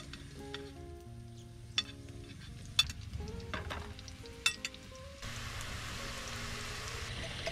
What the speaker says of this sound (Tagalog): Tayo magpiprito na. Lagay lang tayo mantika